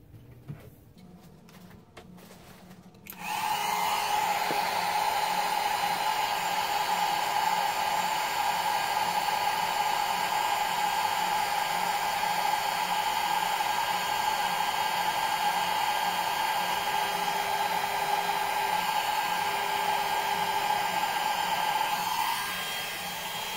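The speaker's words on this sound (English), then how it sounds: "So I'm going to speed up the video while I heat it, but you can watch it change color." A heat gun roars on after a few seconds of quiet and keeps blowing at a steady, loud pitch, melting gold embossing powder on a stamped card, then it shuts off near the end.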